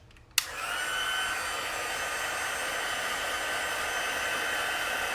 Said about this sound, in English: now I'm gonna grab my heat tool. It's gonna be noisy.